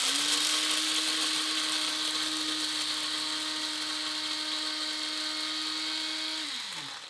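Electric coffee grinder grinding coffee beans, a steady loud motor whir holding an even pitch for about six seconds before winding down abruptly at the end, with no talking.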